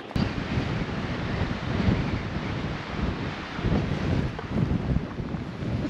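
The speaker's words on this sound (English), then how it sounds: "It's just a little windy." Steady wind buffets the microphone with a constant low rumble and gusty roar, no voices.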